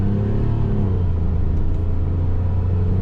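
A 2009 Perodua Viva 1.0 with automatic transmission pulls away with a steady low engine rumble heard from inside the small hatchback, constant and fairly loud with no talk.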